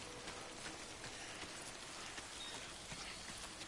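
Steady rain pours down in Death Stranding, a dense, even hiss of drops striking the ground with no pauses and no voices.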